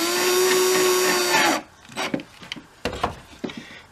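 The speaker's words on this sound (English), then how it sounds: "I'm just going to drill the pilot hole right here, like so." A power drill bores a pilot hole into a wooden cigar box, a steady close whirring grind for about a second and a half, then stopping, followed by a few light knocks and handling sounds.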